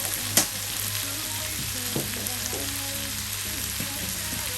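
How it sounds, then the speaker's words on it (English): Butter sizzling and frying in a hot pan for Jamaican callaloo and saltfish, a steady close crackle with a few light clinks of a utensil, no voices. "I add a tablespoon of butter"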